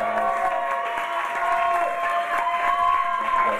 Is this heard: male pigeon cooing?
no